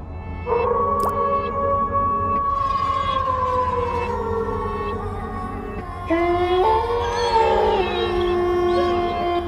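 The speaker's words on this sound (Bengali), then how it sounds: "চারিদিকে বীভৎস রকমের শেয়ালের ডাক।" Long, wavering howls of several jackals rise and fall in overlapping tones, calling together at dusk in a forest, loud and sustained.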